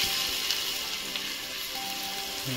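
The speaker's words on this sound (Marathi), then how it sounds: "तेल गरम झालेलं आहे. आता पहिला लसूण टाकून घ्यायचं आहे पूर्ण बघा अशा प्रकारे." Garlic hits hot oil in a pan before fish for a shingada fry, giving a loud, steady, close sizzle with bright crackling throughout.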